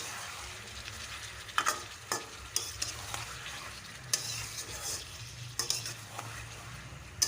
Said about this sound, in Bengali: ভালো করে আবারও নাড়াচাড়া করতে হবে।